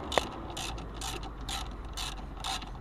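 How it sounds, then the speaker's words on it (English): Ratchet tightening a plastic nut on the cabin fresh-air inlet filter housing of a 2005 Mercedes E500 4Matic (W211), a close series of about six even, rhythmic clicking bursts, with a small sharp knock at the start. "First the ratchet."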